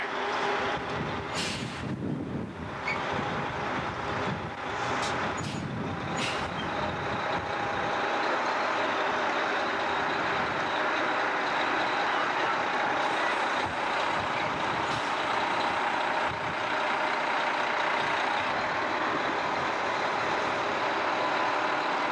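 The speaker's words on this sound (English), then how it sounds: "the bus drives off into the distance" A choir tour bus pulls away and drives off into the distance, its engine a steady loud rumble and whine with a few hissing bursts early on, holding fairly constant throughout.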